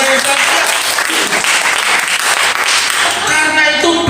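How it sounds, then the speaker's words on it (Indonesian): A church congregation in an apartment worship service claps loudly and steadily, the applause sustained and mixed with cheering voices throughout. "tepuk tangan yang paling meriah untuk Tuhan kita yang dahsyat"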